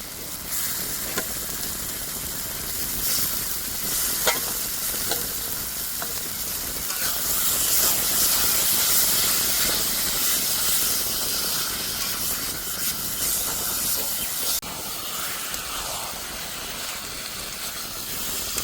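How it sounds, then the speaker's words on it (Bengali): Chicken meat hits hot spiced oil in a pan for a chicken curry with jackfruit, giving a loud, steady sizzle and hiss that swells and lingers, with occasional stirring scrapes and no talk. "মশলার থেকে তেল ছাড়া শুরু হয়ে গেছে, এবার দিয়ে দেবো আমি মাংস।"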